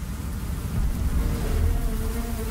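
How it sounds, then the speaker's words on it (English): Honeybees mobbing a Japanese giant hornet, a dense, continuous buzzing hum of many vibrating wings, loud and close, swelling slightly midway with no voices. "By vibrating their flight muscles, the honeybees raise the collective temperature to over 40 degrees Celsius."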